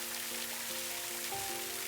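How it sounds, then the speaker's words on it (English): Wind-driven rain pours steadily in a dense, even hiss, faint and continuous, with a soft tonal hum underneath. "The wind is blowing the rain, and it's hitting your face like thousands of tiny needles."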